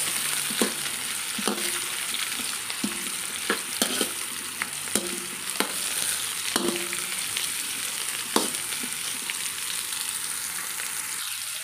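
Onion and carrots sautéing for sweet and sour sauce give a steady frying sizzle, with an utensil knocking and scraping the pan in irregular clicks throughout.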